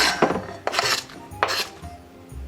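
A knife slices radish into thin half rings on a board, making three or four quick crisp chops with short scraping pauses between them, close and clear with no talking.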